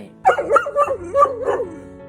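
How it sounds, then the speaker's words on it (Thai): A dog with masticatory muscle myositis, whose jaw barely opens, gives a close, loud series of whining, yelping cries, several rising and falling vocal bursts over about two seconds. "สุนัขเริ่มสามารถส่งเสียงร้องได้"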